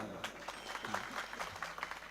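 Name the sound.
audience clapping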